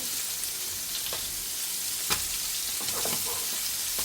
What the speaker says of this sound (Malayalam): മത്തി തിരിച്ച് വെച്ചെടുക്കുന്നുണ്ട്